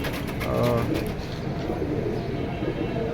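A pair of Hericane breed pigeons coo softly at a bird market stall, their low murmuring repeated under steady background chatter and crowd noise.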